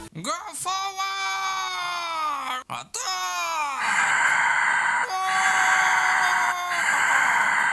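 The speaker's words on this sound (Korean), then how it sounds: "병사들의 숨소리야?" Loud, strained gasping and sighing breaths from soldiers in a hack-and-slash video game, drawn out in long tonal exhales with a brief gap, close and dominant with no other sound competing.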